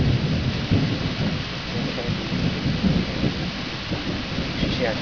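Thunderstorm with steady rain and rolling, rumbling thunder filling the whole stretch, broad and continuous without clear gaps, and no voices heard.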